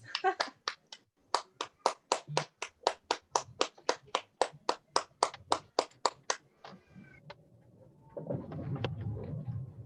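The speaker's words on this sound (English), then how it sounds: "A round of applause for her, please." Members at a Toastmasters club meeting clap in a crisp, evenly timed rhythm, about two dozen sharp beats in a row, before the claps dissolve into a looser wash of noise near the end.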